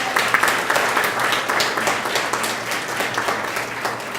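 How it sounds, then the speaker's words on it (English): An audience at a fraternity MLK breakfast bursts into applause, a loud spread of clapping that is strongest at the start and slowly thins out with a low hum beneath. "they deserve a round of applause too"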